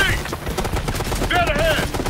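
Machine gun fire in the video game Ghost Recon Future Soldier, a rattling automatic burst mixed with explosions and battle din, fairly loud and continuous, with voices shouting over it.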